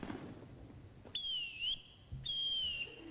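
A shrill whistle signal blown to summon children in a large house, two sustained high blasts each gliding slightly in pitch, the first ending in a short upward flick, clear over a quiet room.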